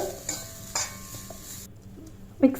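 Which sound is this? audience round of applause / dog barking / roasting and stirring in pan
roasting and stirring in pan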